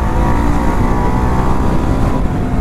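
A Bajaj Pulsar NS200 motorcycle engine running smoothly after a misfire fix, giving a loud, steady, close rumble that holds an even pitch throughout with no stutter and no talking.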